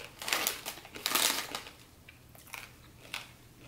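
Someone bites into and chews crunchy cinnamon-flavoured snacks made with rice bran oil, producing several sharp, close crunches early on, followed by softer, intermittent chewing crackles, with no talking.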